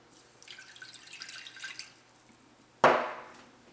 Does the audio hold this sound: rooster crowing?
no